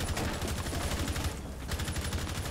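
Rapid gunfire in a shooter video game: dense, loud bursts of shots that run almost without pause, with a brief dip in the middle, and no talk over them.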